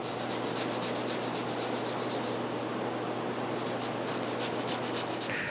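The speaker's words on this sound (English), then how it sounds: "For the leaves, I have to shape the inner part by hand." Steady, close rubbing and sanding strokes as small intarsia wood pieces for leaves are shaped by hand, a continuous rasping texture with faint rhythmic pulses and no voices.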